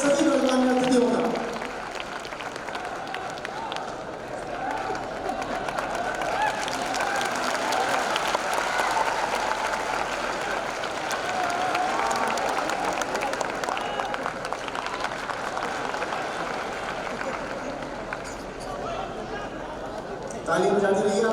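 Loud, continuous applause from a large audience in a hall welcoming guests at a teachers' honour ceremony in Bapu Sabhagar, a dense steady roar of clapping that runs for most of the stretch, with someone speaking over it at the start and near the end.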